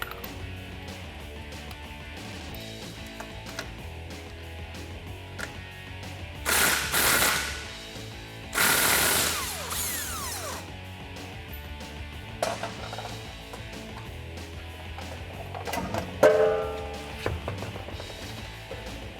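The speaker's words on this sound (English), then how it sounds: "So we'll take a 22mm socket and our locking lug nut key and take our wheels off" Lug nuts come off a RAM 1500 pickup's wheel under a 22mm socket on an impact wrench, with loud sharp rattling bursts between stretches of quieter workshop clatter and metallic clinks.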